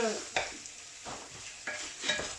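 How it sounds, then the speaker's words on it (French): Pieces of cod are stirred in a frying pan, a soft steady sizzle broken by a few sharp scrapes and clinks of the utensil against the pan, close and quiet. "Je mélange et je vais laisser cuire pendant 5 minutes."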